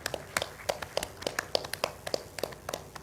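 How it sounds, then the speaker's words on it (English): Sparse, individual hand claps tap out at a steady, slightly uneven pace, fairly quiet and close, as a small audience at the Kolkata International Film Festival applauds Shah Rukh Khan. "Let's have a loud round of applause for Mr."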